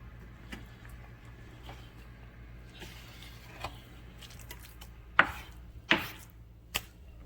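A knife chops through pork belly on a board, a few soft taps followed by two sharp, loud cuts and a lighter final strike, close and separated by quiet pauses.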